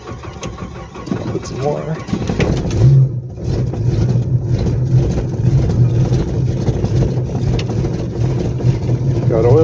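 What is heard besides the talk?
1989 Jeep engine cold start, Holley 4412 carb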